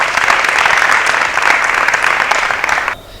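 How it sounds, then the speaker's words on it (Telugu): An audience breaks into loud, dense applause that stays full and even for about three seconds, then cuts off abruptly. "గట్టిగా చప్పట్లతో అభినందించుదాం."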